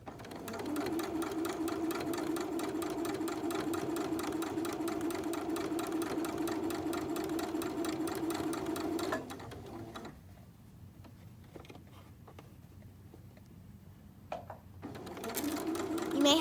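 A sewing machine stitches fabric for a pillowcase doll dress, running in a steady close mechanical whir for about nine seconds, then stopping for a quiet pause before starting up again.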